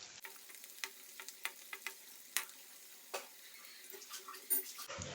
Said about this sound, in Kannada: ಅದು ಘಮ ಬರುವವರೆಗೂ ನಾವು ಫ್ರೈ ಮಾಡ್ಕೊಳ್ಬೇಕು ಫ್ರೆಂಡ್ಸ್.